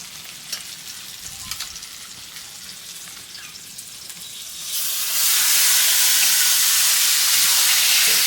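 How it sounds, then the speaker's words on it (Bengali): Meat goes into onion and tomato already frying over a wood fire, the sizzle growing from a light crackle to a loud, steady hiss that fills the last few seconds, with no talk. "টমেটো পেঁয়াজ ভাজা হয়ে গেছে এবার মাংসটা দিয়ে দেবো"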